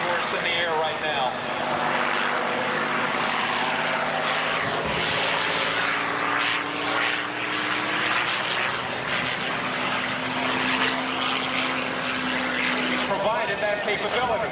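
P-51 Mustang 'Crazy Horse', a propeller warbird with a Merlin engine, drones overhead at an air show, its steady engine tone shifting in pitch as it passes, with an announcer talking over it.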